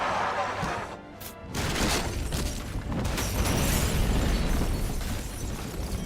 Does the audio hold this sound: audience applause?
no